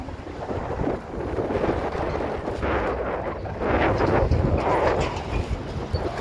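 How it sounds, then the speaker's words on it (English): Strong wind roars and buffets the microphone in a steady, rumbling rush, swelling louder in gusts toward the middle and end. "It's windy today."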